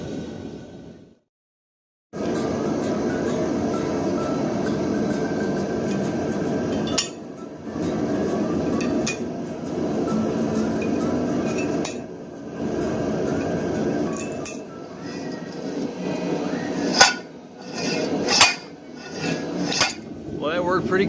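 Backing flanges are beaten back onto a rear axle with a hammer, producing sharp metallic clinks and bangs that come in irregular bursts over a steady background rumble, with several loud, ringing strikes near the end.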